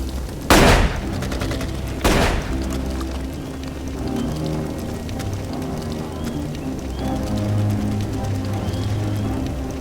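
Gunfire in a tense thriller scene, two sharp loud shots about a second and a half apart over a dense, continuous background of rumbling action noise.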